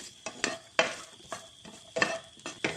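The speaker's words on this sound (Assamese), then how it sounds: "পিঁয়াজখিনি এনেকৈ ভাজি লৈছোঁ।" Onions dry-frying without oil in a wok with repeated scraping stirs, about six sharp strokes at an uneven rhythm over the soft frying hiss.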